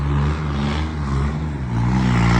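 A tractor engine labours steadily while pulling a 16-foot trolley, a loud, close diesel drone with a low, even rumble that rises slightly in pitch toward the end.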